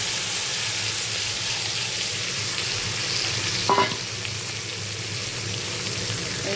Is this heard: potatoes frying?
yes